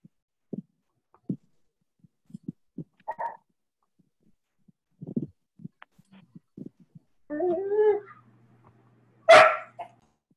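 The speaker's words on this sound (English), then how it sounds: "I think it was a dog barking." A dog barks somewhere off in the background during an online English lesson: scattered short yips and thumps, then a longer rough bark and one sharp loud bark near the end, with no talk over it.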